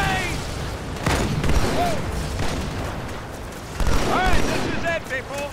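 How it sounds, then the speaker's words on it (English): Grenade blasts and gunfire in Halo 2 combat, a few heavy booms among bursts of shots with whooshing effects, loud and chaotic, with voices over the action. "Grenade!"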